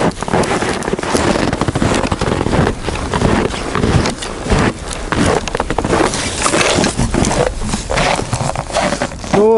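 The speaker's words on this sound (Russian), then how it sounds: "Ветер сегодня такой северный дует." Steady gusty north wind buffeting continuously outdoors on a fishing trip, rough and loud throughout, with scattered knocks and rustles.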